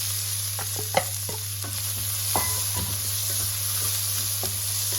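Onions fry until light golden brown in a pan for lasuni methi, giving a steady low sizzle with scattered scraping clicks of stirring over a constant hum, no voices.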